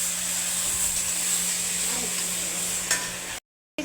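Rice being stirred in a pan for vegetable khichuri, a soft scraping and sizzling rustle that runs steadily, close and moderately loud, before a sudden short dropout near the end.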